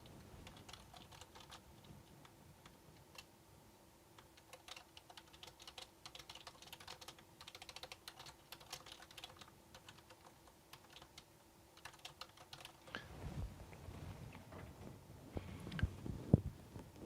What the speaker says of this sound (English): So can everybody start typing?